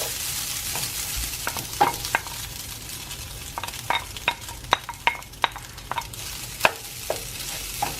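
Quinoa being stirred in a frying pan as it heats through, with scattered scraping and tapping clicks from the spoon over a soft, steady background hiss.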